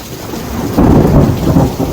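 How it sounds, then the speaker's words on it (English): Thunder rumbles loud and close during a thunderstorm, rolling in waves over steady rain with no voices. "So there's thunder and lightning going on"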